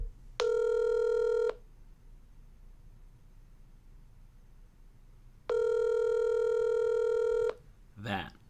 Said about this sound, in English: That is a dial tone.